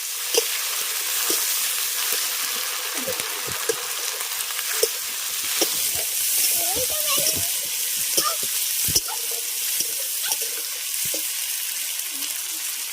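Onions frying in oil with ginger, garlic, dried chili paste and turmeric powder added, a steady close sizzle with scattered scrapes and taps of a spatula in the pan, no talking.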